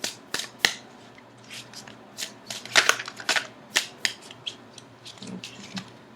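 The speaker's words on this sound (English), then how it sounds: "so I'm shuffling them again before I begin the reading for Aries" Someone shuffles a new deck of tarot cards up close, producing a run of crisp riffling clicks and flicks in irregular bursts, with a low steady hum underneath.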